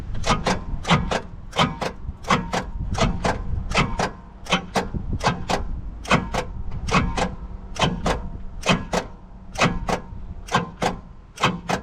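A 1969 Pontiac Bonneville 428 V8 station wagon, parked for 45 years, is cranked over on the starter without firing. Steady, rapid, rhythmic chugging bursts, close and loud, with no talk.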